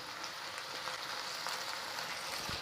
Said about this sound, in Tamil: சிக்கன் வதங்கிருச்சு